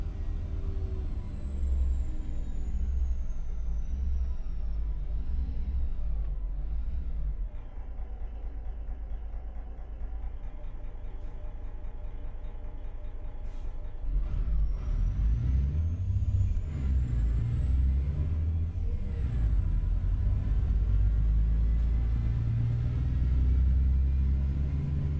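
A Z mods engine mod on a truck in American Truck Simulator gives a deep, steady diesel rumble that climbs into a louder, throatier roar partway through as the throttle opens.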